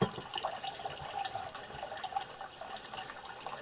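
Warm water pours from a tap in a steady, soft splashing stream, faint and continuous for a few seconds with no voices.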